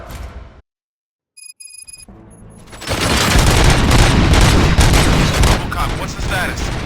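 Gunfire in the video game Robocop Rogue City breaks out after a short silence with a few electronic beeps, then becomes a dense, loud barrage of shots and booms that keeps going.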